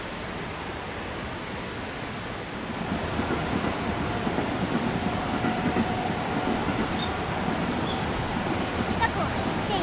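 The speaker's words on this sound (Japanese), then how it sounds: "近くを走っている路線とその列車なのだ。" Train running on a nearby railway line, a steady broad rumble with faint clickety-clack that swells after a few seconds and holds loud throughout, no speech.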